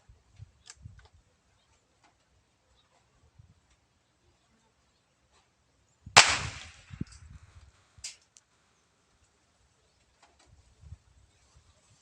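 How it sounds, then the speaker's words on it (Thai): A single sharp gunshot from a test-firing of a 40-grain round at a concrete block, loud and abrupt with a short ringing tail, surrounded by long quiet stretches with faint rustles and small clicks. "อาจจะทดลองยิงกันเลยครับ"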